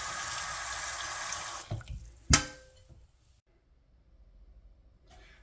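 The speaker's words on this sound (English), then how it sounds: "we're gonna take our squid and we're gonna put it in cold water" Cold tap water runs loudly into a sink for squid being cooled, then stops with a clunk and a sharp knock, leaving quiet trickles and faint handling sounds.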